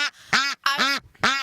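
Ducks at a duck sanctuary quack loudly and close by in three harsh, nasal bursts, each a rapid run of honking calls with short gaps between.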